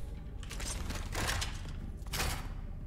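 Minigun fire in the shooter video game Gunfire Reborn, with rapid rattling bursts in two main stretches over a low rumbling bed, loud and close.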